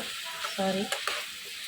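Potato and drumstick curry being stirred in a pan, a close sizzle and scraping stir with a short hum-like tone in the middle.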